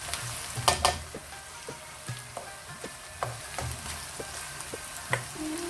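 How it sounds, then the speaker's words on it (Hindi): Bhindi masala ingredients lightly frying in a pan, a continuous sizzle broken by sharp scraping and stirring knocks at irregular intervals. "इसको भी हल्का सा फ्राई करेंगे, ज़्यादा ब्राउन नहीं करना इसको भी"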